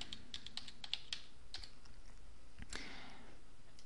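Fingers typing a page name on a computer keyboard, a run of light, rapid key clicks early on, then a few scattered taps and a louder clack, quiet against faint room noise with no speech.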